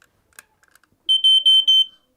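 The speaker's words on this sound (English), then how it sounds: "When a fire starts, the smoke alarm will smell the smoke and it will go on." A smoke alarm sounds three loud, close electronic beeps in quick succession after a couple of faint clicks.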